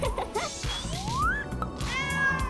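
A cartoon cat in an animated children's story gives a couple of short meows with rising, squeaky pitch, heard clearly alone against a light background of playful sound effects.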